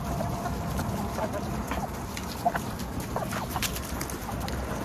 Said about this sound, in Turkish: Ya toplam 26 tane tavuk var ama yarısı ferik.